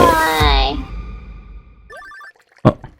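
A telephone rings in the Stardew Valley Expanded farming game: a short burst of electronic trills comes after loud talking and laughter, followed by a sharp, loud hit near the end.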